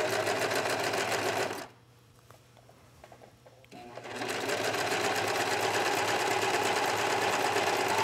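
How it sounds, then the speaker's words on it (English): Serger overlock machine stitching a seam on skirt fabric, a loud, steady mechanical whir that runs, pauses briefly, then resumes at full speed. "run it through your serger"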